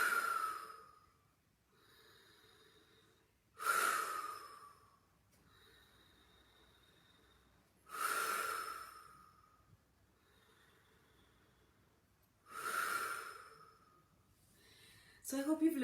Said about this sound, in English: Take your breathing to about a count of 10 or 12 and just relax with the breathing.